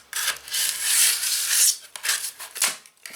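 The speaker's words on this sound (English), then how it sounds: "just with the blade, you want to cut it back" Blade scraping back dried filler along a cracked staircase string in steady, close rasping strokes that break into shorter scrapes near the end.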